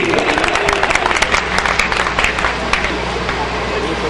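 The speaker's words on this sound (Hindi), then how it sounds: "खिचड़ी खाओ और खूब तालियां बजाओ" Audience clapping at a Kavi Sammelan poetry gathering in Sampla, a dense sustained burst of many hands, loud and steady throughout with crowd murmur mixed in.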